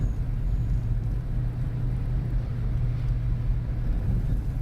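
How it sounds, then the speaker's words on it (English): A low, steady engine drone of a small truck driving in the video game Farmer's Dynasty, constant and fairly loud with no talking. "We'll take our trusty little truck."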